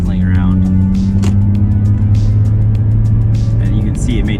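A Lexus GS300 sedan fitted with a Toyota 2JZ-GTE engine, driving: a loud, steady low engine drone heard from inside the car, holding constant with a few faint higher clicks and rattles.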